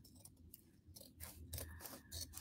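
Scissors cut through an old cotton shirt in a close series of crisp snips and rustling fabric slices, uneven in rhythm and quiet overall, with no voices.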